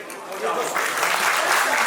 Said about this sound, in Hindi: जोरदार तालियां आई